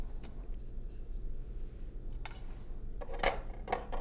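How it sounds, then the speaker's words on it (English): A spoon clinks and scrapes against a bowl as plain yogurt is stirred in a home kitchen, a few faint metallic taps near the end over a low background hum. "I'm going to mix that up"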